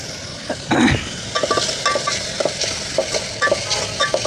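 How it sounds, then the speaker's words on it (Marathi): Onion frying and being stirred in a pan for a village-style bean curry, soft sizzle under repeated scraping strokes and light metallic clinks of a spoon against the pan, close, with no talking. "कांदा चांगला लाल करायचा ह्याच्यामध्ये"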